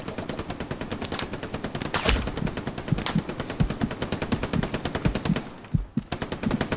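Rapid, continuous machine gun fire in the Hell Let Loose World War II multiplayer game at Sainte-Mère-Église, a loud steady stream of shots with a brief dip near the end, no talk.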